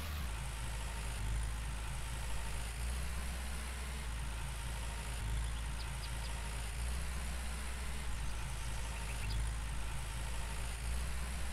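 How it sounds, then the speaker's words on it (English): A tractor engine drones steadily while pulling a plow through a rutted field in the farming game Farmer's Dynasty, a low, constant rumbling hum with slight surges, heard alone. "This tractor really does not like this field at all."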